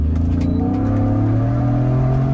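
A stock Ford Bronco accelerates at full throttle from a roll, its engine droning loud and close with a steady rising tone and no other sounds.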